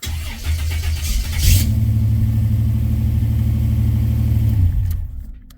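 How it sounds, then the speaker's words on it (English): A car engine cranks and catches, then settles into a steady, loud idle close by, fading out near the end. "I'm going to start the car."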